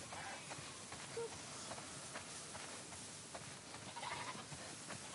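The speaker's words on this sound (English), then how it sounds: "Wow, that's a lot of sheep." Sheep bleating in the video game The Last of Us Part II, with several calls scattered over a steady, fairly loud ambient bed of outdoor game sound, no talk.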